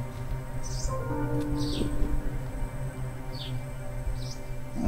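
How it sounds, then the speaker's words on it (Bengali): Birds call in a tidal jungle, a few faint chirps scattered over a low steady rustling background, with no voices. "পাখির ডাক"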